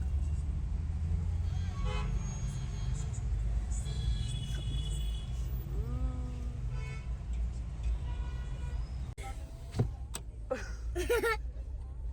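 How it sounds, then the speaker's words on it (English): Car horns toot in a jammed road near Gurgaon, with a couple of short honks over a constant low traffic rumble and engine drone, close by. "that's why we are stuck in traffic"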